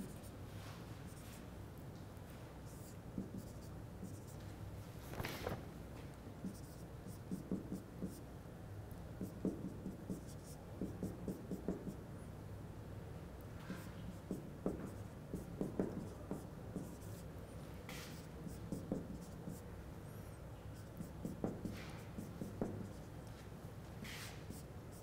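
Chalk or marker scratching and tapping on a board during a signals and systems lecture, faint, irregular strokes over a quiet room hum with no talking.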